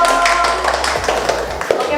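Audience clapping at a primary school event, a short burst of hand claps mixed with voices and talk, close and fairly loud.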